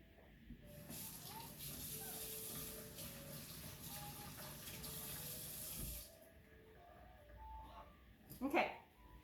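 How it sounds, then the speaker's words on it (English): Kitchen tap water running steadily into a sink for about six seconds, a soft continuous hiss, followed by a brief clatter as the flow stops. "Wash my hands."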